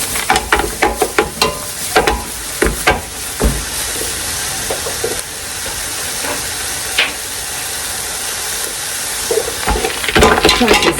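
Tomatoes sizzle and fry in a pan with a steady hiss, broken by sharp pops and spatters, loud and close.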